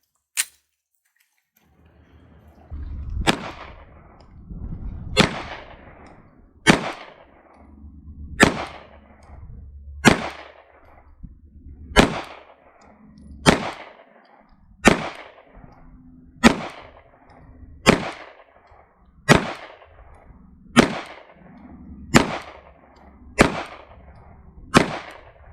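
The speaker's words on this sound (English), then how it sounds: "Let's fire another 17 rounds" FN 509 Tactical pistol fitted with a red dot sight: a long string of single shots fired at a slow, steady pace, each a sharp, loud crack with a short ringing tail, about a second and a half apart.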